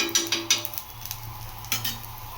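Ghee poured beside a pancake in a hot pan, giving a soft sizzle with a few light scrapes and taps of a utensil against the pan, quiet and close.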